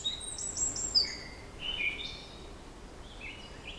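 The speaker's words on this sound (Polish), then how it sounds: "Posłuchajcie, jak te ptaki śpiewają." Birds sing outdoors in a forest, giving thin, high chirps and short whistled phrases that sound a little distant over a soft, steady background hiss.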